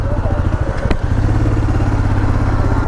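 Motorcycles running as riders set off on a 33 km ride toward Susunia, a close, steady low engine rumble with a brief rising rev, a person talking over it.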